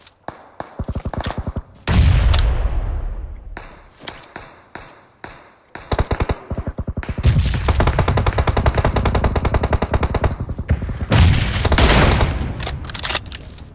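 Rapid bursts of automatic gunfire in PUBG Mobile, loud and close, with short pauses between volleys and a few sustained stretches of continuous firing.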